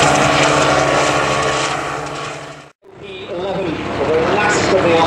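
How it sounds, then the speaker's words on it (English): A propeller aeroplane registered G-MASH flies at a vintage air show, its loud droning engine note passing close, dropping out briefly midway, then returning with a shifting, wavering pitch. "this aeroplane is registered, GMASH"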